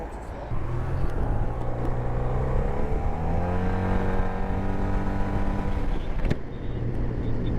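A maxi scooter engine runs and accelerates nearby, its motor rising in pitch through a smooth climb with no distinct gear changes, ending in a sharp knock, with a voice faintly present.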